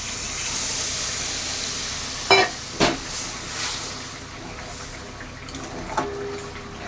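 Homemade coconut milk is poured into a cooking prawn malai curry, bringing two short splashing, hissing bursts over a soft, steady kitchen background, then a fainter simmering sizzle afterward.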